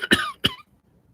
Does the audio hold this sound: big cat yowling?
no